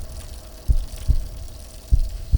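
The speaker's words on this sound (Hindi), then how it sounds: "इतनी आवाजों के बीच मुझे एक आवाज डिस्टर्ब कर रही है, वो है उसके दिल की धड़कनें।" Slow, muffled heartbeat thumps of a racer after a race, several low pulses spaced unevenly over a steady dull background hum, with no talking.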